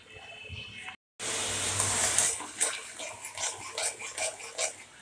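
Water poured into a pot with sugar and crushed cardamom to make syrup for jalebi, a close, steady splashing pour after a brief silent gap, carrying on for several seconds with small clatters.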